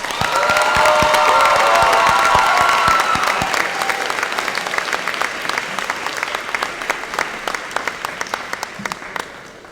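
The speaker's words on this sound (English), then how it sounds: "one more round of applause for the graduates" A graduation ceremony crowd gives the graduates a loud round of applause, with dense clapping and some cheering that gradually thins into scattered claps.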